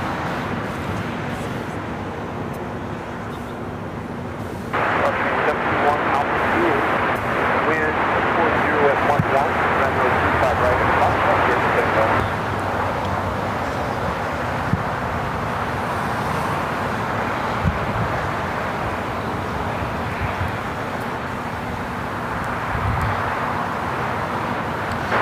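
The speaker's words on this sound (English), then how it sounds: "Looks like we have a Nippon Cargo Airlines Queen lighting up. We'll be taking off to Tokyo Narita." A Nippon Cargo Airlines Boeing 747 spools up for takeoff at LAX, a broad jet roar that swells sharply, holds loud for several seconds, then eases into a distant rumble while a voice talks over it.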